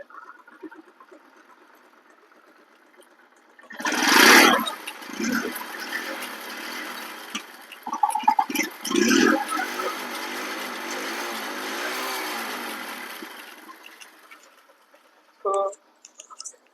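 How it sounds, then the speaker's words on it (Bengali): A TVS XL 100 automatic moped engine runs with a steady, buzzing hum, swelling louder during brief revs and then settling back to a quieter drone. "চলুন এই বাইকটির সাউন্ড কন্ডিশনটা আপনাদেরকে একটু রিভিউ করে দেখাই"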